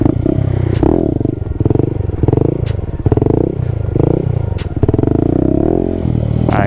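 A stunt Honda Grom motorcycle revs hard and repeatedly while held in a wheelie near its balance point, with rising and falling engine bursts, loud and close, plus clattering mechanical rattle.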